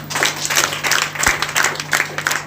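An audience claps steadily at a school drama event, a dense, even round of applause with no pause, close and loud throughout.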